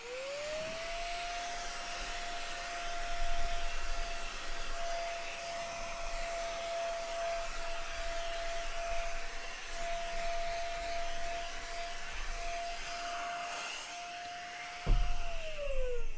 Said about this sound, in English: the vacuum